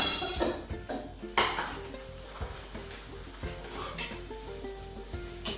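Breakfast dishes from a poha meal are washed in an Indian home kitchen, with soft, irregular clinks of steel utensils and running water close by, fairly quiet throughout.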